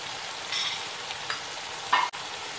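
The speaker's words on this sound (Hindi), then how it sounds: "चिकन को हमने अच्छी तरह फ्राई करना है, इसकी स्मेल खत्म हो जाए।" Chicken frying in a pan for restaurant-style fried rice gives a close, continuous hiss and sizzle, with brief stirring scrapes and a sharp clatter near the end.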